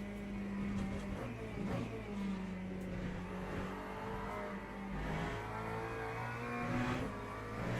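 A McLaren race car in the Le Mans Ultimate racing game drones through an online race, its engine note rising and falling with revs over a constant rumble.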